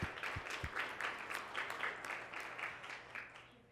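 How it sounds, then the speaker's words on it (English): An audience at a Weslaco High School event gives a round of applause, quick dense clapping that starts strong and gradually thins out, heard at a moderate distance and fairly quiet. "Please, let's give them a round of applause for all their hard work."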